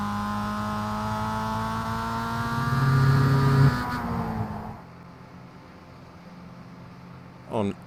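A Mazda MX5 race car engine in iRacing drones and revs at steady high pitch, then the note drops away and fades to quiet, with a brief burst near the end.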